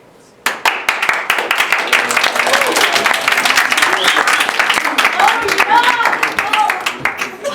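A crowd breaks into sustained applause, many hands clapping loudly and continuously together, with a few voices calling out over it.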